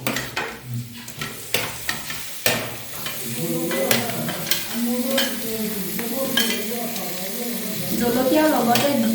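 Pork frying in a pan with ginger, garlic, onion and turmeric, a continuous sizzle broken by repeated stirring clatters and scrapes, growing louder toward the end, with a voice talking over it.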